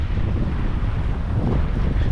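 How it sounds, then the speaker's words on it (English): Wind buffeting a microphone at a seaside camp at South Lefroy Bay, a continuous loud low rumble with gusty fluctuations and no clear voice. "Sorry if it's a bit windy."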